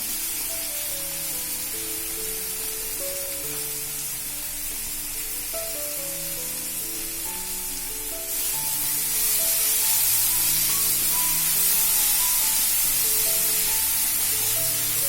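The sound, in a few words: tomatoes frying in a pan for poha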